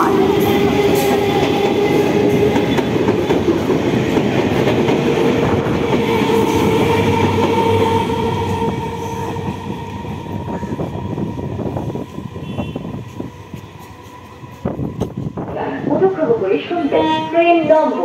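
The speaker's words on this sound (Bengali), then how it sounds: "train number 3414 out Bajbaj Shialda local is arriving on platform" Budge Budge–Sealdah local train pulling into a station platform: a loud, close rumble of wheels and carriages that slowly fades, followed by voices near the end.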